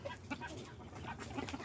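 Hens cluck in a covered barnyard with a chicken house, a busy cluster of short soft clucks over a faint, steady farmyard background.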